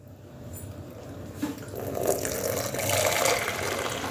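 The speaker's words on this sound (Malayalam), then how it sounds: "ഇനി ഈ ചായ നമ്മൾ ഇതിലേക്ക് ഒഴിച്ചു കൊടുക്കാൻ പോവാ." Milk tea pours steadily into a container, a continuous liquid gush that swells and grows fuller and louder as the vessel fills, with no talking.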